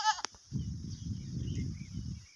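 A goat gives one short bleat, followed by a steady low rumbling murmur of background activity, fairly faint overall.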